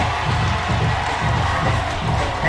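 A crowd at a high school football game cheers loudly and continuously, a dense roar of many voices with shouts rising throughout.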